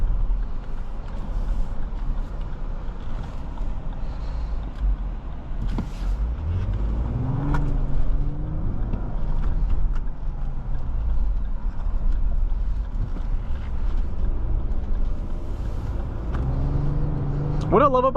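Steady low road and engine hum inside a 2024 Lexus GX 550 Premium on the move, constant and smooth, with a few faint tonal swells and clicks near the end.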